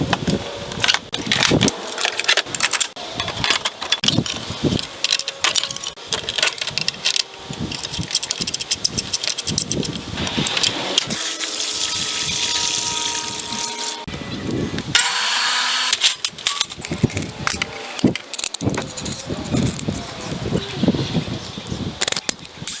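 A tile saw fitted with a Milwaukee blade cuts high gloss porcelain. The loud grinding and whining rises and falls in uneven bursts, with rattling and clattering in between, and no voices are heard.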